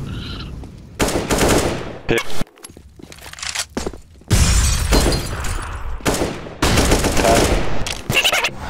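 AK rifle bursts in Counter-Strike, loud rapid automatic fire in several long stretches separated by brief pauses, with footsteps between bursts.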